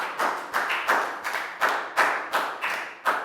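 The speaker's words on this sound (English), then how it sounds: "Big round of applause for Lakau." A small class of young pupils claps in a slow, steady rhythm, about nine distinct hand-claps in a few seconds, close and fairly loud, with no talking over it.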